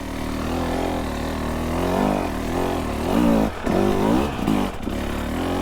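A KTM 300 TBI or Husqvarna 300 TPI two-stroke dirt bike engine crawls at low speed over autumn trail ground, with a steady mid-pitched drone that swells and dips as the throttle is worked and traction comes and goes.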